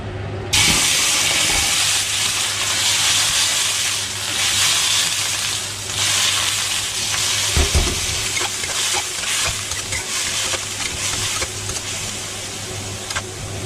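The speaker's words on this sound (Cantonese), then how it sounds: "用個比較熱啲嘅鑊，因為想去快啲煎啲蠔" A loud, continuous hiss of oysters searing in a very hot wok, steady and close, with a brief knock partway through.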